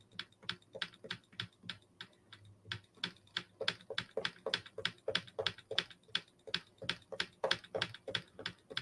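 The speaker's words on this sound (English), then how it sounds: "Hope you guys like that clicking sound." A card-stamping letterpress tool clicks over and over in a quick, even run of small sharp taps, close and fairly quiet, with no talking over it.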